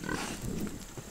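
A pig gives brief, close grunting snorts in a short burst, heard alone without talk.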